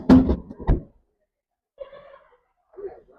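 A refrigerator drawer slides and thumps, with a couple of close, solid knocks at the start followed by fainter sliding rattles and silence between.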